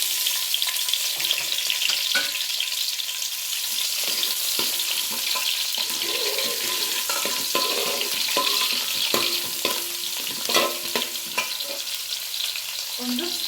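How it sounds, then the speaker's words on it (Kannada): Onion fries loudly in hot oil for a goat head curry, a dense continuous sizzle close by, punctuated by scattered pops and scraping stirs. "ಎಣ್ಣೆ ಹಾಕಿದೆ ಬಿಸಿಗೆ ಈಗ ಈರುಳ್ಳಿ ಹಾಕೊಂಬಿಡೋಣ"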